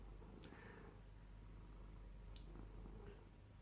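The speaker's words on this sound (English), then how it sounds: "if you can hear him purr" A cat's soft, low purr rumbles close by, steady and quiet, with a few faint clicks and rustles over it.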